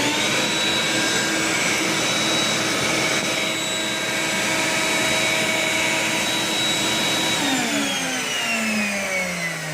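Router on a homemade router table running together with a shop vacuum for dust extraction, a loud steady whine and roar held throughout, with the pitch dropping as the machines start to spin down near the end.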